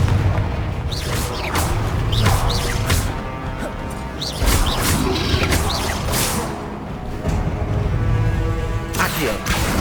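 Confringo blasting spell explosions in the wizarding game Hogwarts Legacy, a rapid run of sharp fiery bursts and whooshing impacts, loud and close, with combat sounds between them.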